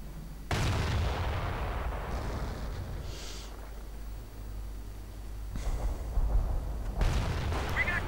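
Artillery fires in a World War II strategy video game. Three heavy booms are heard, one early and two close together near the end, each rumbling over a low battlefield background.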